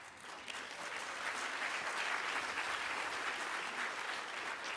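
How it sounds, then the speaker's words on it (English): Audience applause at a Radcliffe Day 2023 gathering, a steady, dense wash of clapping hands that holds evenly for several seconds with no talk over it. "Applause for Dad."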